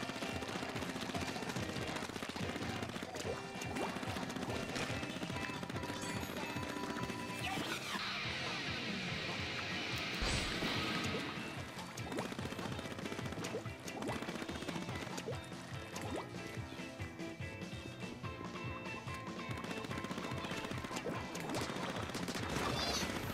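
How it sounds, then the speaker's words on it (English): Chaotic Splatoon Turf War gameplay on Wii U, with dense bursts of splashing and crashing from thrown bombs and ink fire, loud and continuous throughout, with a brighter spray-like burst partway through. "Yeah, throw them bombs."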